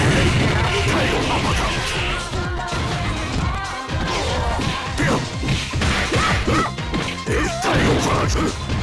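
Rapid punches and crashing impacts from a Capcom vs SNK 2 fighting match, including an uppercut, land loud and dense amid whooshes, with game announcer voices over the hits.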